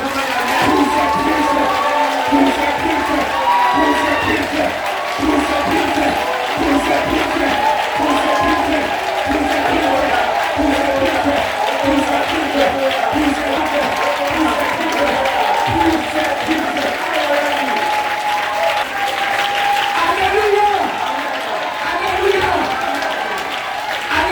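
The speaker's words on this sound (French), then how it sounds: "on va s'élever, on va acclamer le Seigneur Jésus" A church congregation at a special Sunday thanksgiving service cheers and applauds to acclaim Jesus: sustained, loud clapping with shouting voices mixed in, continuing without pause throughout.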